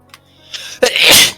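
A person gives a single loud, close sneeze: a short indrawn breath builds up, then a sudden explosive burst trails off into a breathy hiss.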